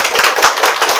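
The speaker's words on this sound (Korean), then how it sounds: "영광의 박수 한번 드리겠습니다." A church congregation claps in a brief, loud burst, many hands striking close together in quick uneven slaps for about a second.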